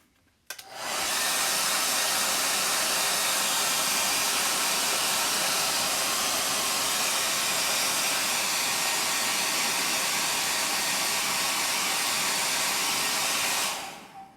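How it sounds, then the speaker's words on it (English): Close, steady hiss of a hair dryer blowing continuously for about thirteen seconds, switching on and off cleanly. "I'm going to try to dry it just a little more with the actual hair dryer"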